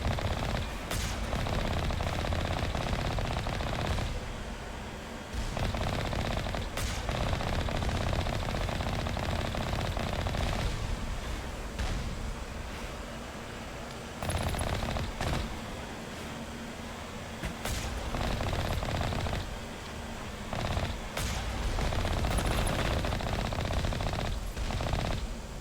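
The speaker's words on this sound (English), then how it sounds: "Someone's shooting at me when I'm not even over the cliffside yet." Gunfire in Mass Effect Legendary Edition aimed at the player near a cliffside, with a turret nearby: sustained bursts of rapid shots crackle over a dense battle backdrop, with brief sharp pops standing out throughout.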